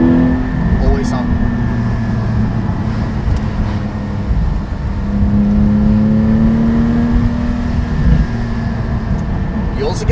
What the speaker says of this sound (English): You also get some of that burble back that's disappeared from the engine noise